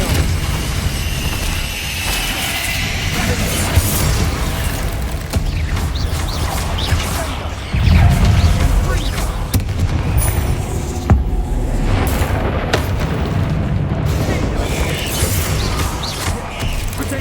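Confrigo fire-blast spells explode in the Hogwarts Legacy video game amid combat, with dense rumbling booms, crashes and mechanical clatter running continuously, plus a heavier impact midway through.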